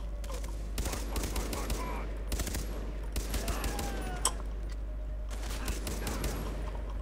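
Rapid gunshot volleys from Far Cry 3 come in repeated clusters over a steady low hum, moderately loud and fairly close, with a faint voice now and then.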